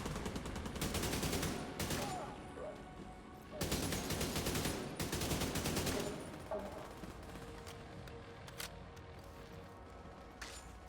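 Bursts of automatic gunfire in The Division 2 video game, heavy volleys coming in separate rapid strings with quieter scattered shots between them.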